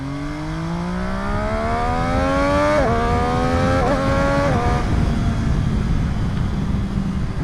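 A Triumph-style F3 sport motorcycle revs hard from close by, its engine note climbing in steps as the quickshifter snaps through several quick upshifts, loud and continuous with no talk.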